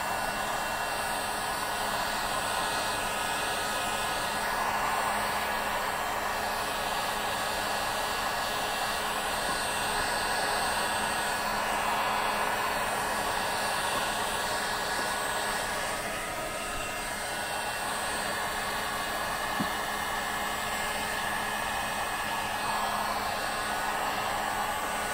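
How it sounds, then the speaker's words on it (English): A heat gun blowing steadily while heating the edges of paint protection film on a car, a continuous close whooshing drone with a faint whine that holds for the full length without talk. "So the heat gun, or I guess you can do it with a blow dryer, is very key to getting the edges all"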